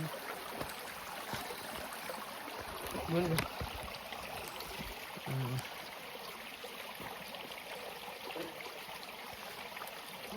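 Spring water flows and trickles steadily with a soft, continuous gurgle at its source near Lonar Lake, joined briefly by a couple of short voices in the background.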